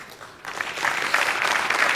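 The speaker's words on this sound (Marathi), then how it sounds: "आज त्यांच्यासाठी एकदा जोरदार टाळ्या" On a Marathi comedy show, an audience breaks into hearty applause that starts half a second in and builds into a steady, full wash of clapping.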